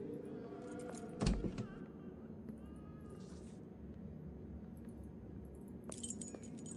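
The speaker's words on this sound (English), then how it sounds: "Can I unlock it with the keys I just found?" Keys rattle and a lock clicks open with a sharp transient early on, in the Victorian-era mystery game Sherlock Holmes: The Awakened, followed by quiet ambient room tone and a few faint later clinks.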